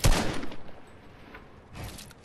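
Video game gunfire aimed at the ground: a loud, close burst at the start, then quieter shots and a second burst near the end.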